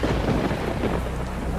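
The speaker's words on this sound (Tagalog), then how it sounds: "biglang bumuhos ang malakas na ulan" Heavy rain pours steadily in a loud, dense wash with a deep rumble of thunder beneath it and no voices.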